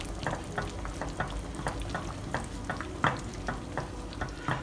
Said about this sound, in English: Give this a light stir and we'll give this a taste.